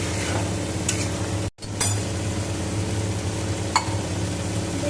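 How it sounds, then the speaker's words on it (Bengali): Masala for paneer aloo posto, with poppy seed and white sesame, sautéing in a pan, giving a steady close sizzle with a few spoon scrapes and one brief break in the sound. "মশলাটা দিয়ে এবার ভালো করে কষিয়ে নিচ্ছি।"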